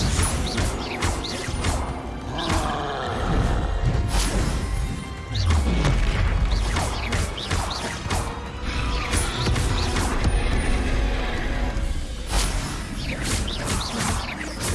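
Loud fantasy spell blasts from the Hogwarts Legacy video game, a Confringo fire spell exploding with repeated heavy booms, crashes and whooshes layered over busy game combat noise throughout.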